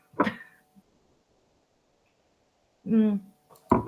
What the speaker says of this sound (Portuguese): Espirrar.